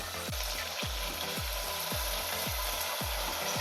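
Spice paste frying in oil with dry red chilli, cardamom, cinnamon, cloves and bay leaf for Bengali aloo dum, a steady sizzle broken by a regular scraping stir about every half second, close and without talk.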